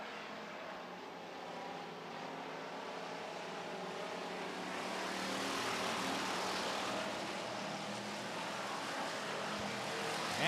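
Pure stock race cars roar around a racetrack feature, a broad steady engine drone from several cars that swells slightly midway as they battle down the back straightaway.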